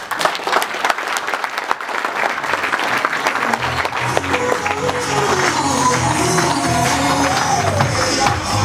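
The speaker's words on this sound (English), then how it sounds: "So just give a round of applause." Applause from an audience at an awards celebration starts as scattered claps and swells into dense, loud, sustained clapping, with music or murmur rising underneath toward the end.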